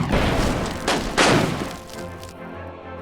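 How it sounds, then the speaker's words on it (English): Bombs dropping onto an airship in the video game Airships: Conquer the Skies give dull thuds and booming crashes over a steady low game rumble, with two stronger impacts midway. "Throw bombs on this punk."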